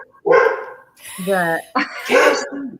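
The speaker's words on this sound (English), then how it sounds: "he's barking. It's like dog barking hour right now" A dog barks loudly and close, a few sharp barks mixed with a yelping, whining call in between.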